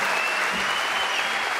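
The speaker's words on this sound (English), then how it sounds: "please give a round of applause to the sound guys," A theater crowd at a concert applauds steadily, a dense wash of clapping that is loud and continuous throughout.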